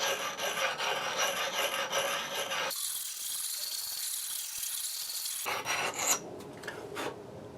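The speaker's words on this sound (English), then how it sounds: "bringing this down with the coarse side of this stone" Coarse side of a sharpening stone rasping along the edge of a cheap Chinese axe, steady close scraping strokes that pause for a few seconds and then resume.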